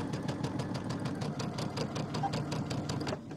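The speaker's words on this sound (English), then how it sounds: "I'm gonna run this along the edge of my J foot" A sewing machine with a J foot stitches along a fabric edge in a fast, even mechanical rhythm of needle strokes, close and continuous, that slows and stops just at the end.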